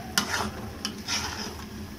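Dal and pumpkin are stir-fried in a pan, giving a close, steady frying sizzle with a few quick scraping stirs of the spoon over about two seconds.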